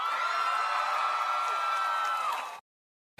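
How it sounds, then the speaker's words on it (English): A large crowd roars and cheers continuously at a Bad Bunny speech, a dense sustained wall of voices and whoops that holds steady before cutting off abruptly near the end. "And the cackling crowd went crazy."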